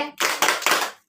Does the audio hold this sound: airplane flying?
no